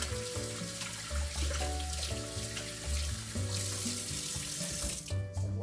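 A kitchen tap runs steadily into a sink during washing up after cooking, a close, continuous water rush with splashing changes as hands move under the stream, no voices.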